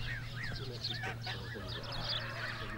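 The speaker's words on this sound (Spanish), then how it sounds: "Este otro bando, muy parecido al silvestre, es sin embargo de oca andalusí" Andalusian geese honk in a flock, a dense overlapping chorus of calls at moderate loudness over a steady low rumble, with a voice speaking faintly underneath.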